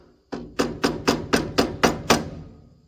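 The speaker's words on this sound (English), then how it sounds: "Should go in and hammer this flat." A hammer strikes a part on a landscape trailer under restoration to flatten it: eight sharp, evenly spaced blows land close by, each ringing briefly before the next.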